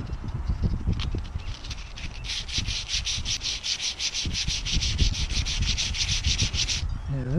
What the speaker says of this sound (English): I'm gonna sand it down, put some of that red oak stain on it